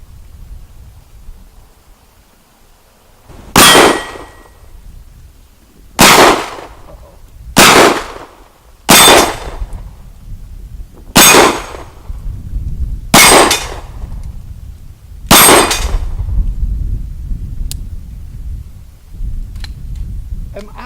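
Seven loud, sharp reports from a Coonan .357 Magnum pistol ring off steel targets at an outdoor range, spaced about one to two seconds apart, each with a bright metallic decay over low background rumble.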